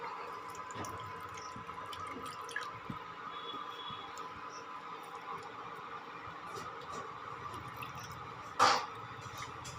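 Mashed tamarind liquid is poured into a pot for a village-style sour dish, with soft wet dribbling and squishing over a faint steady background, then one brief, louder splash near the end.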